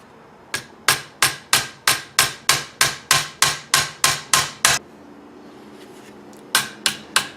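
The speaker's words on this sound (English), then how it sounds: "now with a hammer, gently tap it in." A hammer gently taps a part into a Type 81 rifle stock in a steady series of about fourteen sharp, ringing metal strikes, then a pause, followed by three more taps, close and clear.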